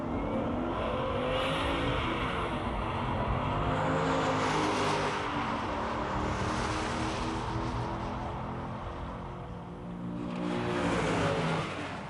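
A 1964 Pontiac GTO and a 1965 Corvette drag race at a muscle car drag strip, their engines a loud, sustained roar with shifting pitch as they accelerate down the track, swelling again near the end.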